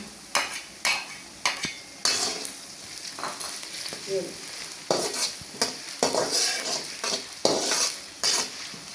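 Garlic-ginger paste fries in hot oil for moong dal tadka, with a constant sizzle broken by repeated sharp clinks and scrapes of a spoon stirring against the pot, close and fairly loud.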